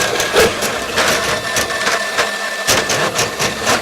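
A Ridgid K-3800 drain cleaning machine runs cable into a sink drain. It gives a loud, close mechanical whirr with irregular rattling pulses and surges throughout.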